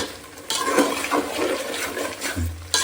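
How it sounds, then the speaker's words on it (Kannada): Water is poured from a tumbler into a pan of chicken gravy, a continuous splashing gush that swells and fades over a few seconds, heard alone without talk. "ಒಂದು ಲೋಟ ಎರಡು ಲೋಟ ನೀರು ಹಾಕೊಂಡ್ರೆ ಸಾಕು"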